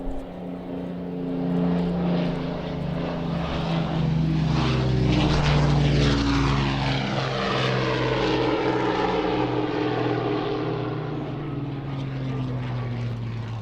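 A propeller aircraft flies past at the Waddington Airshow, a loud, sustained engine drone that swells as it nears and then slowly recedes, with the pitch sliding downward as it goes by.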